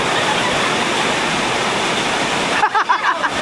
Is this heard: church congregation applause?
no